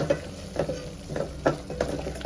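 Turmeric and ground spices frying with a pinch of rock salt in a pan, a soft steady sizzle broken by several short scraping stirs at close range, with no voices.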